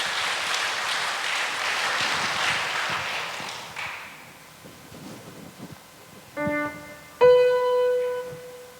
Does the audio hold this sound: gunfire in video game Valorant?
no